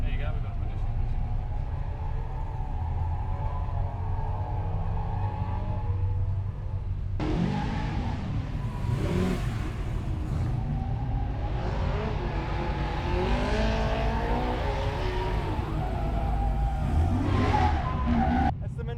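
A Holden Monaro revs hard and skids at the Summernats car festival, with loud engine roar and squealing tyres amid a noisy crowd and people talking nearby.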